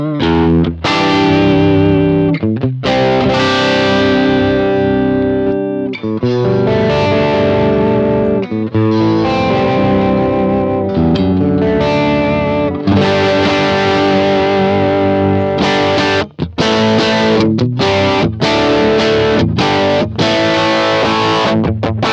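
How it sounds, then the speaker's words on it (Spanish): An Ibanez electric guitar runs through an OCD overdrive pedal with a compressor, playing loud, continuous distorted chords and riffs with short rhythmic stops, alone with no talking. "Ahora voy a utilizar la segunda fase de ganancia, que es mi OCD junto con el compresor."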